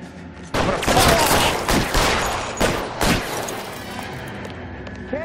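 A gunfight in L.A. Noire brings a cluster of loud, sharp gunshots in quick succession. Echoing tails fade into a quieter stretch afterward.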